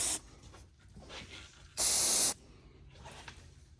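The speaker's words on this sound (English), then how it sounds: "we're going to grab us some brake clean, just to make sure that it's not leaving any oil trails" One loud half-second hiss of aerosol brake cleaner is sprayed under a Toyota Tacoma Trailhunter during an oil change. Quiet shop background surrounds it, with no talking.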